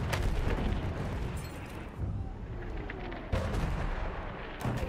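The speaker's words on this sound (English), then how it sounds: "I'm gonna man the field cannon next to you, and I'm gonna kill that fucking destroyer." Booming field cannon shots in the video game Battlefield 1 ring out, a few heavy blasts spaced seconds apart, each followed by a rumbling roar.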